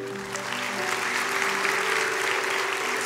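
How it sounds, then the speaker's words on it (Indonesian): Sustained audience applause at a church sermon, a steady dense patter of many hands clapping that holds evenly for a few seconds without speech. "kasih tepuk tangan untuk Tuhan Yesus"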